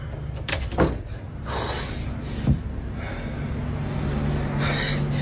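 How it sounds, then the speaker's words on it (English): Door slamming shut on its own in a hallway, a sharp loud thud midway followed by lingering room noise, with a few softer knocks and breathy sounds around it. "Just seconds after he notices the door, it slams shut on its own."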